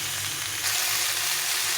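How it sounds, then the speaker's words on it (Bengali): Mixed vegetables with lightly fried cauliflower frying together in a pan make a brief, steady, hissing sizzle that swells slightly partway through, close and without voices. "দিয়ে সবগুলো সবজিকে একসঙ্গে ভালো করে কষিয়ে নিতে হবে"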